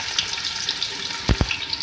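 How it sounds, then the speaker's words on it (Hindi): Onions fry in ghee for beef pulao, giving a steady close sizzling hiss with two quick low knocks near the end. "ये देखिए प्याज हमारी फ्राई हो रही है।"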